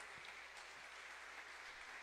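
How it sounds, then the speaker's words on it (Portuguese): A church congregation applauds during a worship service, giving a steady wash of dense clapping that stays even throughout and sounds faint and distant. "Vamos aplaudir esse Jesus Todo-Poderoso"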